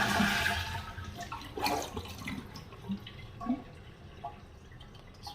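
A toilet flushes after the water supply is shut off while a flapper is being replaced, a rushing drain that fades into gurgles and scattered drips, close and unaccompanied by talk.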